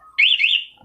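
Smart-key alarm on a Yamaha WR 155 VVA motorcycle giving one short, loud warbling electronic chirp close by, about half a second long and alone.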